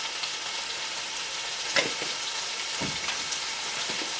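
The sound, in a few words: chicken pieces cooking in a pan with black pepper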